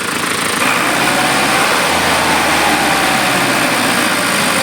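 A Mitsubishi Fuso Canter truck's 4M51 diesel engine runs after an overhaul, a loud, close, steady idle with a dense even rumble that holds throughout with no talk over it.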